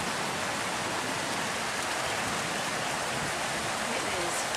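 Fast-moving floodwater from a creek that has risen over its banks into a yard, a steady, dense rushing wash that holds at constant loudness throughout, with no pauses.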